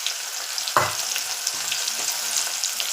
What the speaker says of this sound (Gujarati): જો સરસ વઘાર કરે છે લીલું લસણ નાખી.